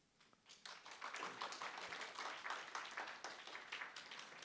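Church congregation claps in welcome, a quiet smattering that builds into steady, fairly faint applause from a room of people.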